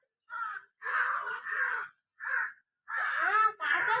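Crows caw loudly and close by near a house, giving about six harsh calls in short bursts with brief pauses between them, alone and with no talk.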